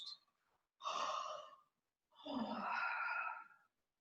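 Two slow, soft breaths blown out through the mouth during a guided sophrology relaxation exercise: a breathy exhale of about a second, a pause, then a longer, steadier one, close and quiet with no talking.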